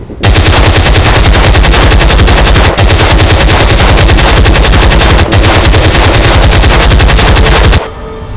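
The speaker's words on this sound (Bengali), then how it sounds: "ফায়ার কর।" Sustained automatic gunfire in an army combat scene, loud and close, rapid machine-gun bursts hammering continuously for about eight seconds with two brief breaks, then stopping abruptly.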